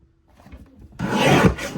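A paper trimmer slices through card stock in one close, rasping swipe that follows faint handling sounds, with no voices.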